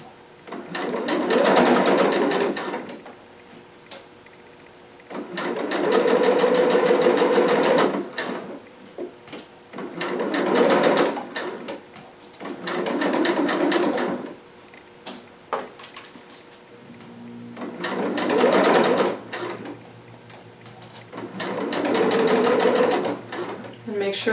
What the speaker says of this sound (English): If it feels like your machine is having a rough time stitching through your stay tape or your ribbon, just remember to go slowly